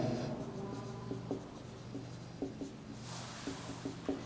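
Chalk or marker writing on a board during a chemistry lesson on chemical kinetics, with a series of short taps and scratchy strokes in an irregular rhythm, close and fairly quiet over a faint room hum.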